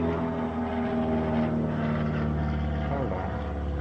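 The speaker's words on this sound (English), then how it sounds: "Plane flying." A plane flies overhead outdoors, a steady droning engine rumble that holds at an even level throughout, with no talk over it.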